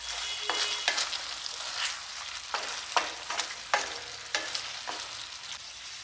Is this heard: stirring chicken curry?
yes